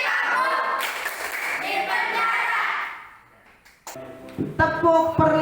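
A group of students performs the tepuk PPK clapping chant, a run of hand claps and voices that fades midway, then resumes with sharper claps and chanting.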